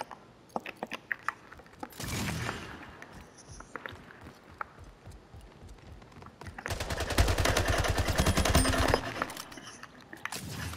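Weapon fire in the video game Splitgate, with bursts of rapid automatic shots clustered around the middle and a dense, loud volley near the end, with footsteps and other game sounds between them.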